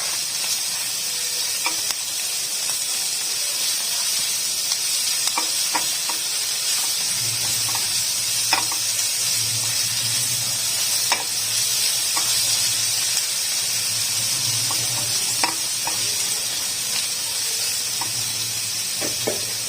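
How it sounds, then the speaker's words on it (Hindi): Onions with green chili paste and spices frying in a pan, a steady close sizzle and hiss with scattered soft clicks and scrapes of stirring throughout, no talking over it. "इसमें मैंने प्याज ऐड कर दिया। प्याज को सॉफ्ट करेंगे।"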